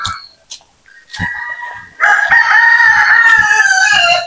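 Native chickens heard up close: a few short clucks, then a loud, sustained rooster crow that carries to the end.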